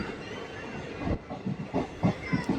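A Kacheguda–Yelahanka train on the adjacent platform at Medchal station clanks past nearby, with a rhythmic series of wheel thumps over rail joints under a low rumbling hiss.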